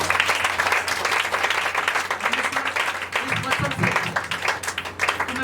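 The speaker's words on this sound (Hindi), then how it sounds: "क्या आप जीवन पाना चाहते हैं? अगर जीवन पाना चाहते हैं तो प्रभु यीशु मसीह के लिए तालियां बजा दीजिए।" A church congregation applauding, a dense steady burst of many hands clapping that fills the whole stretch at moderate loudness with faint voices mixed in.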